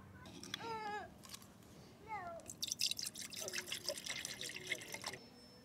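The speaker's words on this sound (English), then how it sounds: "Let's get some water in it." Water is poured into a container beside a Jackery Explorer 1000 v2 power station, a close dribbling, burbling pour that builds into a steady trickle over faint background noise.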